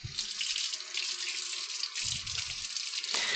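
Running tap water rinsing something in a kitchen sink while preparing wraps, a steady close hiss of flowing water with a short burst of heavier splashing near the end.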